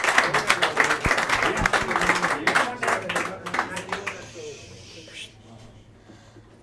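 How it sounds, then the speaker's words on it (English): Crowd applause and clapping in Mick Doyle's pub in Graignamanagh, County Kilkenny, during a traditional Irish music session, a dense patter of many hands for about four seconds before fading to quiet room murmur. "Will you give her a nice big round of applause all the way live from Doyles and Graignamanagh?"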